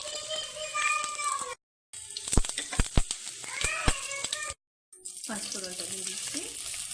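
Bay leaf dropped into hot oil in a kadai while cooking a Bengali mixed vegetable dish gives a close, crackling sizzle, with rising tonal cries like a cat mewing and sharp clicks layered over it, cut twice by brief silences.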